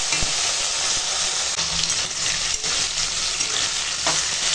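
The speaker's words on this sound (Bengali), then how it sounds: "এই আনাজটা একটু ভেজে নেব।" Cut taro, potato and eggplant fry in hot oil tempered with nigella seeds, giving a steady, dense sizzle close by with occasional scrapes of stirring.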